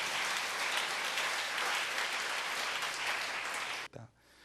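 A church congregation at a Wednesday service breaks into dense, sustained applause that fills the room, then stops abruptly near the end.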